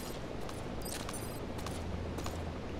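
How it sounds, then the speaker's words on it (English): Gunfire in the Metal Gear Solid V video game, a rapid scatter of sharp shots over a steady game soundscape, with no talk. "Oh, they must have heard the gunfire."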